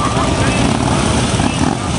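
Harley-Davidson V-twin motorcycles rumble steadily at a raceway, a dense, continuous low engine drone that stays loud throughout with a busy crowd-like wash mixed in.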